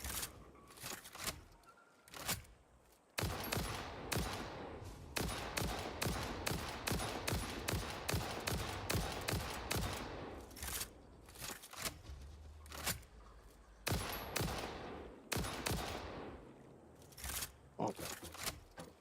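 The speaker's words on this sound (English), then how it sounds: "Another one over there shooting at me." Dense, relentless enemy gunfire in a video game, with rapid bursts of loud shots stacked close together, broken by brief gaps, then rattling on again at close range.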